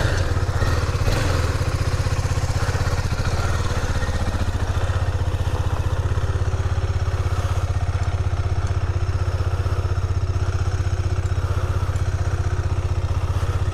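KTM Duke 250 BS6 motorcycle engine running while the bike is ridden, a steady loud low drone with mechanical clatter throughout, close and continuous with no talk.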